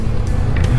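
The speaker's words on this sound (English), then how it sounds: "There's a car coming." A car passing on Highway 97, heard as a loud, close low road rumble and engine drone with faint hissy bursts of tire noise, with no voices in the moment.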